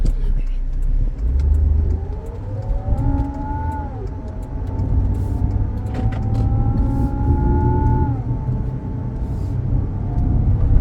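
A 2007 Lincoln MKZ sedan driving on the road, with steady engine and road rumble and some rising and falling tonal whine as it speeds up, loud and continuous throughout.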